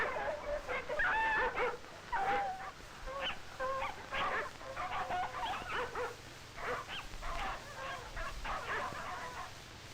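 Sled dogs bark and yelp in an excited, overlapping chorus, fairly faint and distant against a low wind-like rumble.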